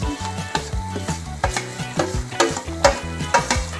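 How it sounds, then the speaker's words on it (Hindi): Semolina frying in a pan for halwa while being stirred, close rhythmic scraping strokes over a soft sizzle, repeating steadily with no talking. "इसको अच्छे से इसमें मिक्स कर देंगे मीडियम फ्लेम पे करना है इसे"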